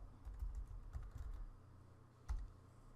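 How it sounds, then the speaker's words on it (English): Quick bursts of keystrokes on a computer keyboard as a web address is entered, close and clear, with a pause before a final sharp tap. "I'm going to go ahead and type in HTTPS"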